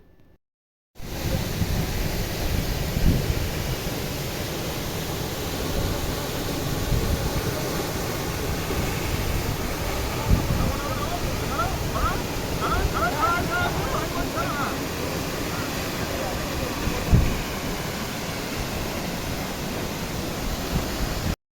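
A distant waterfall and strong water current roar steadily in a dense jungle, a continuous broadband rush that starts abruptly after a second of quiet and holds level throughout.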